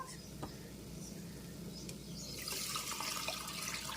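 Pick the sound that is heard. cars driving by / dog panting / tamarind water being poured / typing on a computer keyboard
tamarind water being poured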